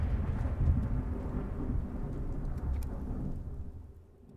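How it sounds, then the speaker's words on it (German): Rain falls steadily in Fallout London, with deep, rumbling thunder rolling underneath, a broad continuous wash that fades slightly at the end. "Ah, jetzt regnet es."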